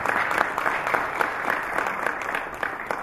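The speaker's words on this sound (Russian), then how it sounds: "Ваши аплодисменты его супруге," An audience claps warmly at a formal banquet celebrating a famous singer's 70th anniversary, with sustained, dense applause and no voices over it.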